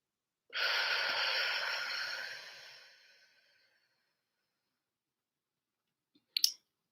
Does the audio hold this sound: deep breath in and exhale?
yes